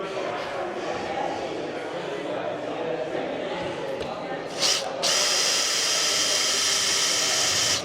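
A power drill whirs steadily as it drills into a roof during an in-roof solar panel installation, its pitch jumping higher and louder near the end as it bites in, over a continuous background hum.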